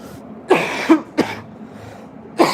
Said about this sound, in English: I'm coughing a lot because we're on the smoking area